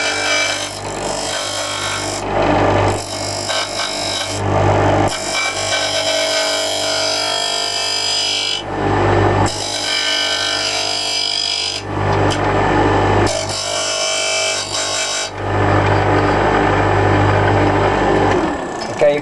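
A handheld power sander buzzes loudly and close up, running in several long stretches with short pauses between them, with no talk over it.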